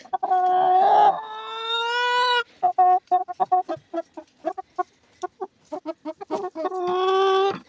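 Chickens and a rooster cluck in short rapid bursts at close range in a village yard in Ukraine's Sumy region, with longer drawn-out squawking calls at the start and end, no talking.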